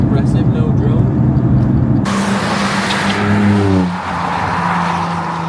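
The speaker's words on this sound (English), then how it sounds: "there's more road noise from tyres and rest of the car because it's such a short car than there is exhaust noise" Nissan 350Z with an aftermarket Japspeed exhaust cruising at motorway speed, heard from inside as a steady broadband roar of tyre and road noise with a low engine hum beneath, shifting tone briefly midway.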